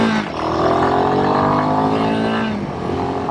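A Royal Enfield Himalayan 452 motorcycle engine pulls hard and close, its tone climbing steadily as the bike accelerates, then easing briefly near the end before picking up again.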